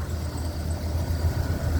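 A 2000 Dodge Dakota extra-cab pickup idles steadily close by, its low engine hum even and continuous with no voices over it.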